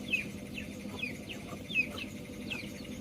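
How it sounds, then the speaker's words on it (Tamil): Guinea fowl calling on a farm after morning rain, a series of short, repeated harsh calls at a moderate distance over a low, steady background hum. "இது கிண்ணி கோழி"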